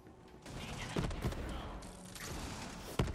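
Gunfire in the video game Borderlands 3, a few sharp shots standing out at moderate loudness over a busy, clanking mechanical game soundscape.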